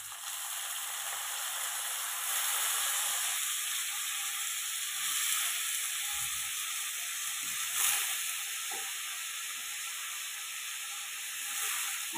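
Raw banana pieces fry in oil with onion in a pan, a steady soft sizzle and hiss throughout with faint stirring scrapes, no talk.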